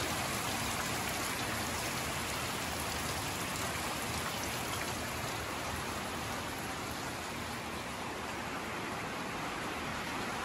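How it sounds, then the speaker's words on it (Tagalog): Torrential rainy-season downpour roars on and on without a break, a thick, even wash of falling water drumming on surfaces. "Wala nang kasawaan yung ulan."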